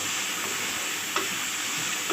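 Minced meat for shimla mirch keema fries with ginger garlic paste in a pan, giving a steady close sizzle with a few brief stirring scrapes.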